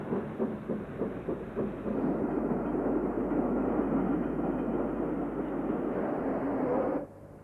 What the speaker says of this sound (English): this down express behind a King class locomotive was bound for Birkenhead